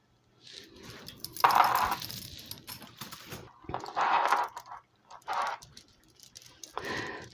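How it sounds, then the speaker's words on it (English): Plastic chain jewelry with a modern extension chain clicking and rattling in bursts as it is handled and picked up, close and fairly quiet, with gaps of near silence. "So you hear that kind of clicking sound"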